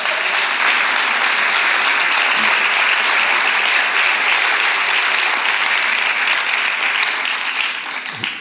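A conference audience at a talk by Christian Junod claps in a dense, loud, continuous wash of applause that holds steady for over eight seconds.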